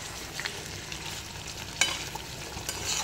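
Meat cooks in oil with a splash of water in a pan, giving a steady soft sizzle broken by occasional stirring scrapes and one sharper clink, with no one talking.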